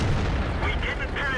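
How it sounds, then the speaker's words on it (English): A tank cannon shot strikes a turret in World of Tanks, with a T-44 on the Erlenberg map: one loud, deep boom with a rumbling tail, heard under a talking voice. "his first shot hitting the turret and not penetrating"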